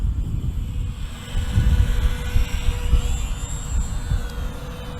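A HobbyZone Champ RC airplane's electric motor throttles up to about half power, giving a steady droning whine over low wind rumble that swells slightly after the first second and holds.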